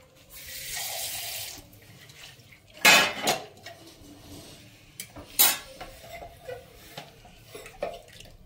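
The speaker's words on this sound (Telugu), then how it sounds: "సో ఇందులోనే వాటర్ కూడా వేసేసుకోవాలి" Water poured into a pan of Andhra-style stuffed brinjal curry, a splashing gush at the start followed by clanks of pots and utensils and short bursts of water, close by, with no voices.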